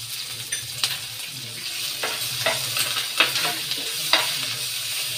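Spices, coriander leaves and turmeric frying in a pan for a coconut-milk dal dish, a steady close sizzle broken by several sharp scraping stirs of a spoon against the pan.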